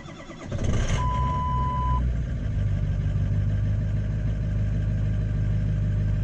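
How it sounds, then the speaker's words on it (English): A Ford F250 with a 6.0L diesel engine cold starts, cranking briefly before catching and settling into a loud, steady diesel idle with a one-second electronic beep as it fires. "Do a little bit of a cold startup for you."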